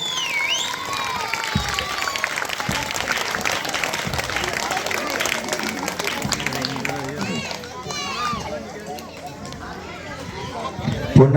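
A crowd at a village gathering applauds to welcome an honoured guest, moderate clapping and cheering mixed with chatter and nearby voices, with music or tonal sounds weaving through and the crowd noise staying steady to the end.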